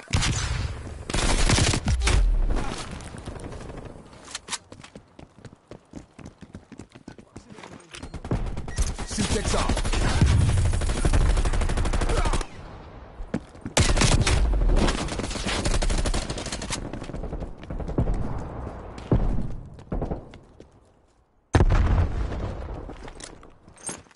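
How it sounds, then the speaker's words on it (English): Black Ops multiplayer firefight with dense bursts of automatic gunfire and booming blasts from a flashbang grenade, loud and near throughout, with brief pauses between volleys and game voices in the mix. "Using flashbang."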